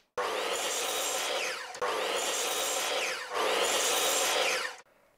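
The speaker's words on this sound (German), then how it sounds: "So, in 4 Minuten fertig gesägt, gar kein Stress hier." Wood being sawn in a home workshop, three long continuous passes of steady rasping with brief breaks between them, loud and close with no talking.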